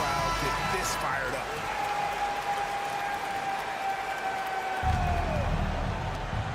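A crowd in a EuroLeague basketball video game roars after a three-pointer, a broad, sustained cheer and applause filling the whole stretch, with a commentator's voice carrying over it.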